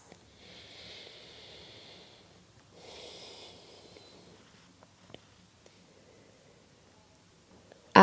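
Two long, airy exhalations during a deep hip flexibility stretch for the middle splits, close and soft, followed by quieter stillness with faint small movement sounds and a sharp bump at the very end.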